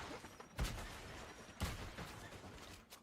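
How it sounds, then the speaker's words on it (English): Gunfire in a shooter video game: two distinct sharp shots about a second apart, moderately loud over a quieter, noisy background, with no clear talk. "Is someone shooting us from the back?"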